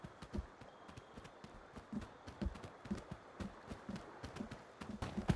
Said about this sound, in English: At this point I can still hear more footsteps.